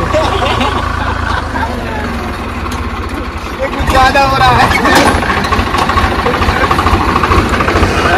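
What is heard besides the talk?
Swaraj 735 tractor engine straining while stuck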